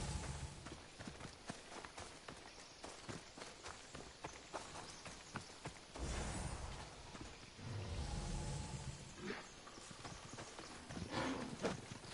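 Horse hooves clip-clop in a quick, steady rhythm in Assassin's Creed Odyssey, with a brief muffled rumble midway and some louder thuds near the end.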